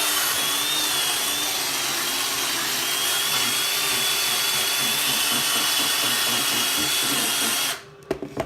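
A power sander whirs steadily and loudly at close range on a wooden kuksa cup, its whine wavering slightly in pitch, then cuts off abruptly near the end followed by a few clunks.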